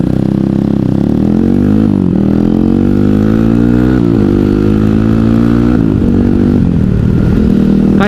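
A motorcycle with a small-spec engine on a relaxed night ride, running loud and close throughout, its tone rising and falling through repeated revs and gear changes with a droning, buzzy exhaust.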